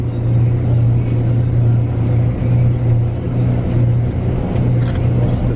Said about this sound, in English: The bus is just slowly reversing up this really narrow bit.